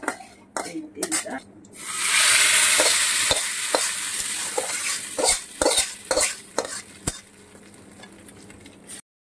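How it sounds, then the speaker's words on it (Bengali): Spices tempering in sizzling hot oil for khichuri, a loud broadband sizzle bursting up after a couple of seconds and holding steady, broken by sharp clinks of a spoon or ladle against the pan. "চলো খিচুড়ি ফোড়ন দিয়ে নিই।"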